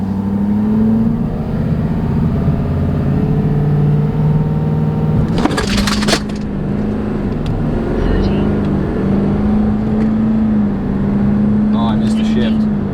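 A tuned 2020 Ford 6.7 Powerstroke diesel truck launches in second gear, its engine droning steadily and rising in pitch with a brief burst of noise midway, while people talk over it.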